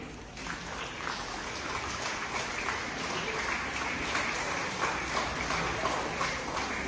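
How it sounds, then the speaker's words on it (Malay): Audience applause at a school ceremony for visiting parents in a hall, a steady crowd clapping that stays dense and even throughout, with no voices on top. "berikan tepukan kepada ibu ayah awak yang datang hari ini"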